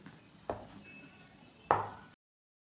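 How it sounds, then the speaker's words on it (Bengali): A knife chops peeled yam bulbils into small pieces on a board, two sharp distinct chops about a second apart, close and clear, ending in silence. "এরকম ছোট ছোট করে কেটে নেব"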